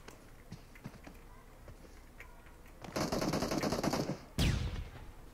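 M416 assault rifle in PUBG Mobile, bursts of rapid automatic fire building into a loud sustained volley, then a final sharp burst, with faint quieter shots before.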